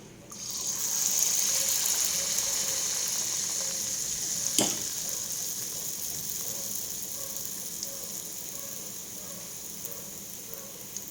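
Batter for mutta surka fries in a pan with a steady, loud sizzle throughout, broken by a single sharp clatter near the middle.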